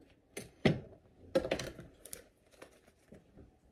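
A deck of cards is shuffled, heard as soft scattered riffling and rustling bursts that sound fairly close and quiet, with no voice.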